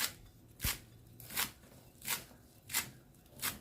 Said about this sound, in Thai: แล้วก็จะหั่นต้นหอม